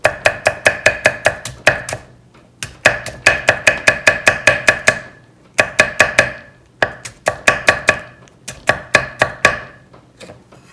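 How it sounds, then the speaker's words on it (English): A knife chops food on a cutting board in quick rhythmic bursts of sharp, close knocks, with short pauses between runs and no voices. "I think we can even go a little bit more of like a chop on this"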